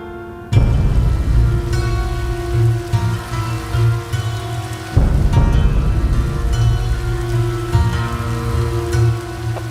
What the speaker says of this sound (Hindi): आज तो भाई सही बारिश हो गई।